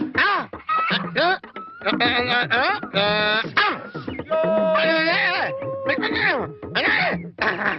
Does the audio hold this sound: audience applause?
no